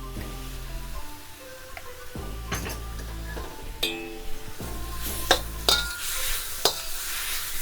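Steak searing in a pan as butter goes in, with a steady sizzle broken by a few close clinks and scrapes of utensils against the pan, and no voices.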